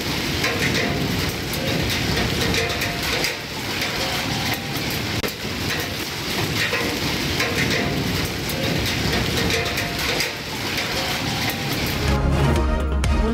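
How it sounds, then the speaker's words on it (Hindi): Heavy stormy rain pours steadily over Haripur, Pakistan, a dense, loud, continuous roar with no pauses and no voices. "हरीपुर शहर और गिरदोनवाह में भी बादल बरसे।"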